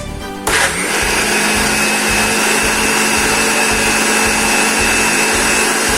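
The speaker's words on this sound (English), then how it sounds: "so now we will blend all mushroom soup ingredient in the blender" A blender blending mushroom soup starts abruptly and runs loud and steady, a continuous high whirring drone that stays constant throughout.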